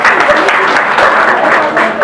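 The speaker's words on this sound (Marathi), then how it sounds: "सर्वांनी जोरदार टाळ्या वाजवायच्या" An audience at a ceremony honouring donors to a Dhamma conference in Badlapur breaks into loud, dense applause, many hands clapping at once in a steady, close burst.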